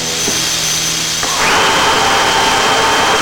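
Power tool countersinking rivet holes on an aircraft rudder or aileron part, a loud close whirring drill whine that rises in pitch as the bit spins up and bites, then holds steady.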